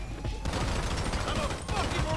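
Video-game gunfire during a GTA 5 Online casino heist comes as rapid, dense bursts of shots that keep up across the moment, loud and close, with players' voices mixed underneath.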